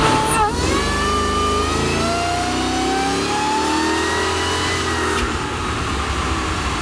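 A Mercedes E55 AMG wagon engine revs hard and holds steady against an early limiter, a loud, continuous strained drone with a brief dip and recovery near the start and another stutter toward the end.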